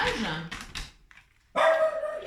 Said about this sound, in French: il n'arrête pas d'aboyer contre je ne sais pas quoi